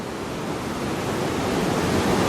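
Swollen Tunnel Brook rushes beneath a bridge after flood damage, a steady broadband roar of running water, close and continuous, growing slightly louder throughout with no voices.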